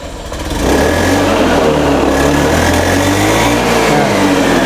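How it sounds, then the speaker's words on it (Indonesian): Motorcycle engine sputtering and stumbling as the throttle is opened after a new ignition part was fitted, a loud close, uneven revving drone with a faltering beat throughout, no talk. "Nah, ini hidup, tapi digas gini berbet."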